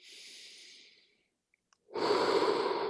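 A person breathing during a chin-up focused exercise class, one soft exhale that fades, a brief pause with tiny clicks, then a louder, closer breath.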